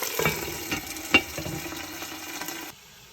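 A beef roast sears in hot olive oil with a steady, soft sizzle and a few louder pops and stirring clatters, then it cuts off abruptly near the end.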